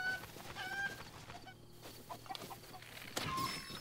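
A chicken clucks in The Legend of Zelda: Breath of the Wild, with short chirpy clucks scattered over steady game ambience, fairly faint, without talk over it.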